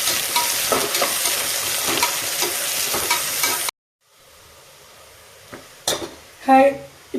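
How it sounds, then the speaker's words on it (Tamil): Onions and green chillies sizzle and get stirred in a pan for homemade dum biryani, a loud continuous fry that stops abruptly, followed by quieter clinks and scrapes of utensils against the pan. "வெங்காயம் பச்சை மிளகா ரெண்டும் போட போகிறோம்"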